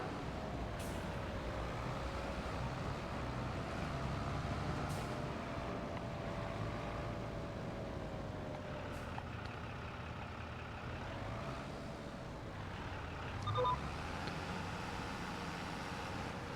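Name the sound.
tractor working in Farming Simulator video game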